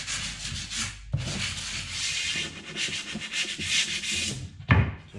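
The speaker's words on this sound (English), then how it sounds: "we're just going to give these a very light very light sanding just to take off any boogers, any raised grain" Close, steady rasping strokes from a light hand sanding of original wood floorboards to knock down raised grain and hairs, pausing briefly before resuming; no talking.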